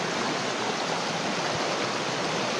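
Creek water flowing beside the bank, a dense, steady rushing wash that holds even and close for the whole short stretch, with no voices over it.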